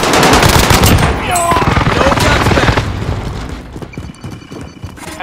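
A dense, loud barrage of rapid explosions and gunfire pounds away in Call of Duty: Modern Warfare as an enemy precision airstrike hits. The rumbling roar holds steady, then thins into scattered bursts.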